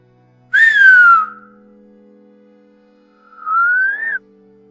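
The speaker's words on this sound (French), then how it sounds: "J'ai sifflé à nouveau et le sifflement est revenu, avec une sonorité très humaine mais en même temps pas du tout." Two separate human whistles ring out as a horror-story sound effect, the first a falling slide, then after a pause a rising answering whistle, clear and loud against near silence with a faint background hum.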